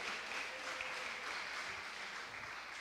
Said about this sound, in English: Can we give our graduates a rousy round of applause?